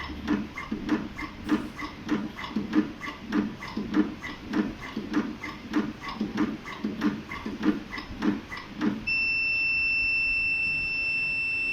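An automatic hose cutting machine thumps rhythmically for several seconds, then stops and its steady high-pitched finish alarm buzzer sounds continuously.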